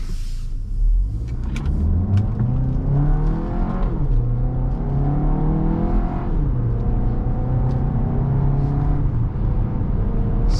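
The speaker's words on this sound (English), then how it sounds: "Maybe if I throw it into manual shifts, it'll give a little more kick and power." A VW Tiguan SEL with an 8-speed automatic, in manual shift mode, accelerates hard; the steady engine drone climbs in pitch, drops back at each upshift, then climbs again, close and continuous with no talking.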